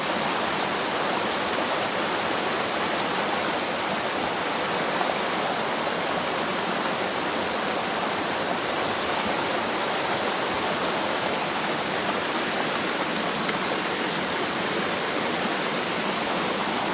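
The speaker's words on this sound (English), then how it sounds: "I'll see if I can swirl it back here on video for you." Water swirls steadily in a gold pan beside a stream while panning bedrock crevice material, a dense, even rushing wash heard close and continuous throughout, with no voices.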